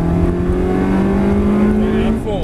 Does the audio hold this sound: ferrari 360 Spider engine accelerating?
yes